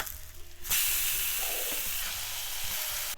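Seasoned Beyond Burger plant-based patties hit a hot pan after a flip, and a loud, broad sizzle flares up suddenly and holds steady, close and alone without speech.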